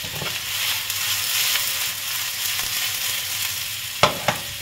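Pasta sauce fries in a hot frying pan with a loud, constant close-up sizzle, ending in two sharp scrape or tap sounds near the end.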